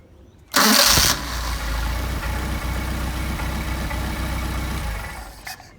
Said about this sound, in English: Okay, got your nice set of carburetors. I'll do a hot start.